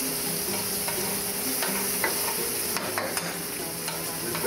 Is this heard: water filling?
no